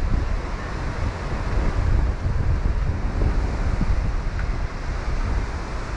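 Strong ocean waves roll onto a beach, a loud, continuous wash of surf mixed with heavy wind rumble on the microphone, unbroken for the whole stretch, no speech.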